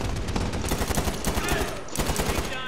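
Dense, rapid gunfire from the video game Medal of Honor Warfighter set in Yemen, sustained bursts of automatic fire crackling loudly throughout with barely a pause.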